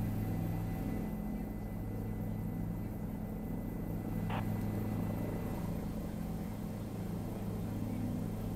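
A helicopter hovers in place in Microsoft Flight Simulator, giving a steady, continuous rotor and engine drone that stays constant in level throughout.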